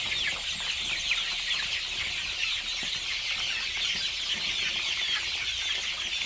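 A dense flock of young Redbro broiler chicks, around 450 to 500 grams, in a whitewashed poultry house under large lamps, cheeping and clucking continuously in a busy overlapping chorus, steady and close, with no voices.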